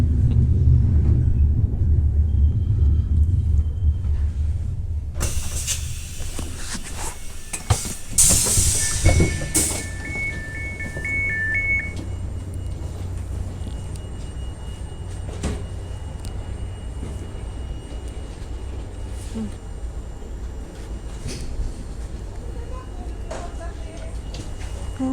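Steady low rumble of passenger trains at a Polish station with hissing bursts, a brief whistle-like tone, and faint voices in the background.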